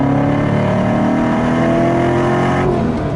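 A Procharged supercharged C7 Corvette Stingray Z51 accelerates hard, its engine note climbing loud and close with a rising supercharger whine for about three seconds, and no one talking.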